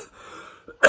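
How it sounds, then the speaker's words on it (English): A single short, loud cough bursts out near the end of a quiet stretch, preceded by a faint throat sound. "I'm coughing my life away."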